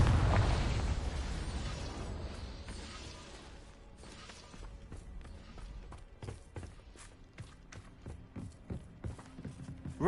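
A Confringo fire-spell blast in Hogwarts Legacy: one loud booming burst at the start that rolls off into a long fading rumble, followed by scattered small pops, clicks and footstep-like taps.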